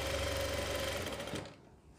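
A sewing machine stitches a trouser leg in rapid, even mechanical chatter with a steady whirring tone, running close and loud for about a second and a half before stopping abruptly.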